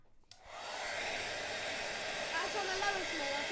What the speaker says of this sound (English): you very, very correctly stated, Harrison, the air produced by the dryer pushes the ball up while gravity is doing its best to pull it down